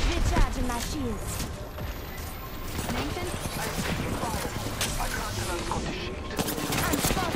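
Dense, continuous gunfire from the battle royale shooter Apex Legends, with overlapping rapid shots and impacts filling the whole stretch at a loud, steady level while a voice talks over the fighting.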